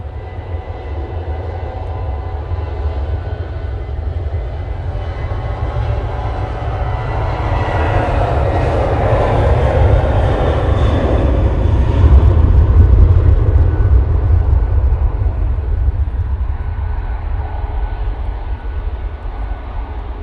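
A Boeing 737 rolls down the runway at Manchester Airport on a windy day, departing for Barcelona, its engine roar swelling loud and steady toward a peak mid-roll, then holding, with wind rumble underneath.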